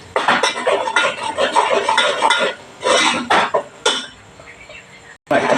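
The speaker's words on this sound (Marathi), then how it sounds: "हे जरा तेल सुटेपर्यंत आपण चांगलं परतून घेणार आहोत" Ground masala paste sautéed in oil in a pan for a jackfruit kat vada, with a spatula scraping and clinking against the metal in uneven bursts and short pauses.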